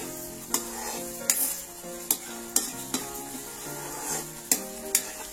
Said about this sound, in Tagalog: Halo-haloin natin para hindi mamuumuo yung gata